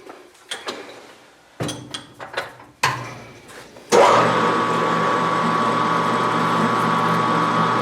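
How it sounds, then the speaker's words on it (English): Handling clatter and taps, then a power drill spins up with an 11/32 bit, running at a steady loud whine for about four seconds while boring a hole for a TIG torch diffuser modification tool. "we are going to an 11/32 drill bit."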